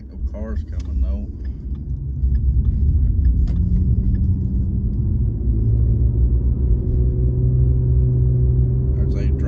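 A car drives along rural Route 3001 in Harlan, Kentucky, turning left, with a steady low engine and road rumble heard from inside the cabin while someone talks over it.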